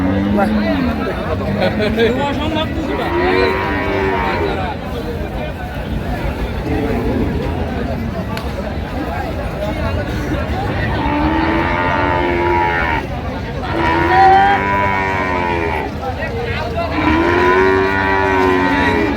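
Dairy cows and calves at Ambari livestock market in Dinajpur moo repeatedly in long, drawn-out calls, several animals overlapping, over a steady babble of crowd chatter and people talking nearby.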